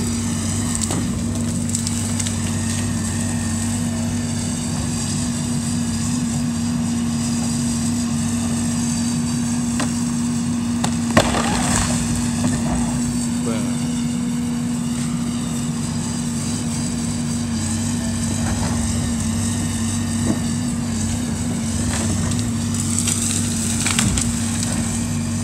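A backhoe demolishing a house, with a steady low engine drone running throughout and occasional cracks and crunches of splintering wood heard at a moderate distance, with no voices.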